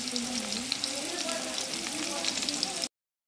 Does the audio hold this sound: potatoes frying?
yes